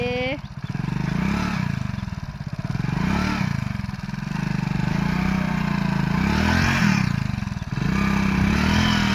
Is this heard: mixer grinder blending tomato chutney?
no